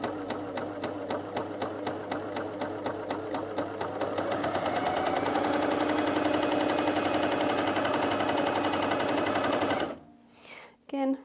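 A Janome CoverPro 3000 coverstitch machine runs at a steady, fast mechanical chatter for about ten seconds, loud and close, then stops abruptly, leaving a few faint clicks and handling noises.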